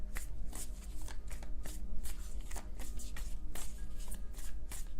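Tarot cards being shuffled repeatedly, quick riffling bursts in a steady rhythm, close and crisp with no voices.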